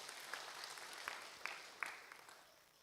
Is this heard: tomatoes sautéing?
no